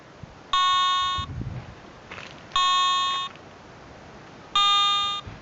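A Garrett ATX metal detector emits three evenly spaced electronic beep tones, each a bright sustained tone lasting under a second, with faint background noise in between.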